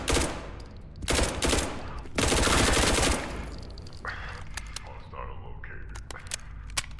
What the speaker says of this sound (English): being greeted by the gunfire of Foundation guards